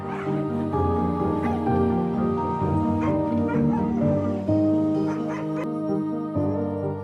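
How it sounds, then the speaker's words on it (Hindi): Many dogs at a shelter housing about 400 dogs bark, yip and whimper together in a loud, continuous, overlapping chorus, with a voice faintly mixed in. "आपने देखा ये कुत्ते ही अब डॉग अम्मा का परिवार हैं"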